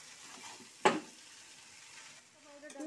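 Egg chowmein noodles stir-frying in a pan, a faint low sizzle with one sharp clack of a utensil against the pan near the start and a soft scrape near the end.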